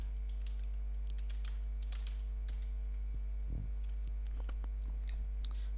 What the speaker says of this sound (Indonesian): Misalnya kita ketik ipconfig.